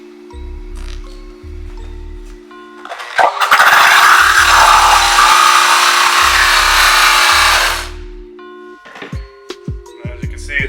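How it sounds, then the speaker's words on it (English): A rake is dragged against a new, spinning buffing wheel on a metal polishing setup to fray its edges, giving a harsh, loud scraping rush that lasts about five seconds over quiet background music. "So we're going to take our wheel, use our rake, and fray the edges so that way it'll accept the compound better."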